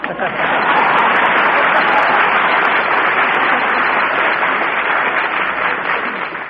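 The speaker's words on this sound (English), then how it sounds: "Applause." Studio audience applause on a 1940 Jack Benny radio broadcast, a dense, steady roar of many hands clapping that holds at full strength for about six seconds.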